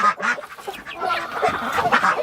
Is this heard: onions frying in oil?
no